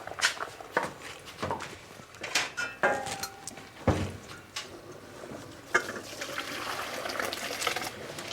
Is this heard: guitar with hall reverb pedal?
no